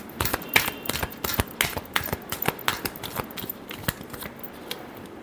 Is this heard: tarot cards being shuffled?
yes